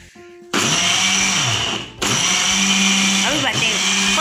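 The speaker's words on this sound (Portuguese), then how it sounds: "Organizamos tudo e vamos ligar o liquidificador." A kitchen blender whirs loudly while making an apple smoothie, starting abruptly, pausing briefly, then restarting and running steadily to the end.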